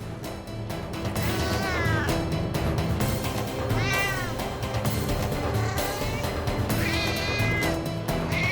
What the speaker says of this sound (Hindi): अब ये बिल्ली क्यों रो रही है?